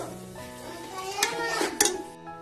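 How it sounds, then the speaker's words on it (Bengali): A spoon stirs fried potatoes and peas in a sizzling cooking pot, scraping softly with a light hiss, then gives two sharp metallic clanks against the pot's side. "ভালো করে মিক্স করে নেব মটরশুঁটি আর আলু দিয়ে।"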